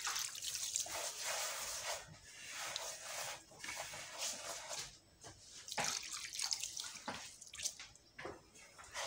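Couscous being rinsed in water, with irregular sloshing and splashing of water in bursts, close and moderately loud, with no talk.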